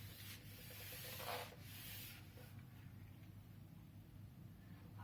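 Eraser rubbing chalk or marker writing off a classroom board during an English lesson, a faint scrubbing with a few stroke bursts in the first seconds, then quieter wiping over steady room hum.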